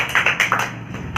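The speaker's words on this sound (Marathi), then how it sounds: "आहानसाठी एकदा जोरात टाळ्या" Short burst of classroom clapping for a young student, a handful of loud, close claps in quick succession that quickly fade to quieter scattered taps.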